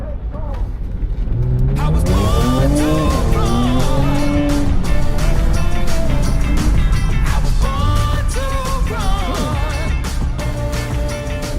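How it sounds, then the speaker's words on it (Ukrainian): A car engine roars loudly and continuously in sport mode, its exhaust note rising and falling as it revs while driving, with voices talking over it. "Вихлоп одразу включився і все."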